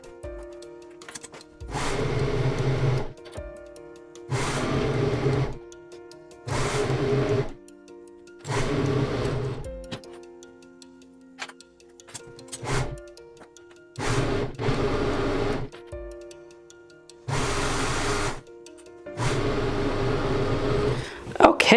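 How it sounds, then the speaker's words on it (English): A home sewing machine stitches the side seam of a cowl in repeated bursts of steady mechanical whirring, each lasting a second or two with quiet pauses between, close to the microphone. "I'm going to head to my sewing machine and I'm going to stitch my side seam."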